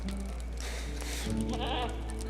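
A sheep bleats in the online game Lord of the Rings Online, a couple of wavering calls over a steady low game hum, with no talking.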